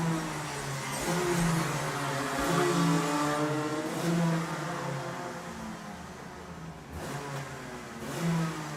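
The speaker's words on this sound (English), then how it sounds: "A lot of revving of engines behind me." Kart engines rev repeatedly at a Rotax karting festival, rising and falling in pitch with throaty bursts, loud and nearby, with a few sharper revs toward the end.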